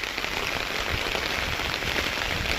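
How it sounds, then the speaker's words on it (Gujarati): Heavy rain falls outside, a dense, steady patter on surfaces throughout. "જબરજસ્ત વરસાદ પડ્યો બહાર તો"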